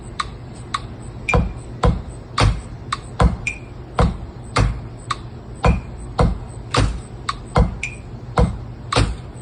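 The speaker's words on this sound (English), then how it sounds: "I'm going to play the bass drum beat here, and I'm going to play it with the snare beat" A drum kit plays a steady groove of evenly spaced bass drum and snare hits with crisp cymbal or hi-hat ticks on top, close and fairly loud, with no talking.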